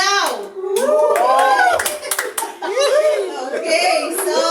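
A church congregation claps and shouts during a worship service, the applause broken and uneven, with cheering voices and a leader's speech mixed in throughout.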